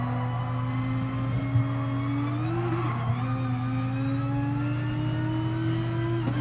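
Nissan GT-R engine in GT Sport, a steady high droning note that rises and dips slightly as the wheels spin, with a faint tyre scrabble and small bumps under the continuous racing-car whine.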